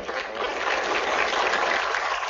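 Army audience clapping steadily at a Big Red One event as the Sergeant Major of the Army is welcomed, a dense, even wash of applause holding at constant loudness throughout.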